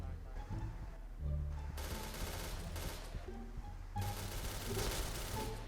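Rapid bursts of automatic gunfire in a video game crackle in two main volleys over a constant low rumble, with faint voices and game effects underneath.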